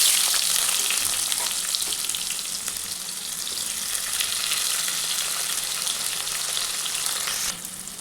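Chopped onion with cumin seeds fries in oil, giving a steady, bright sizzle with fine crackles that runs throughout and drops slightly near the end.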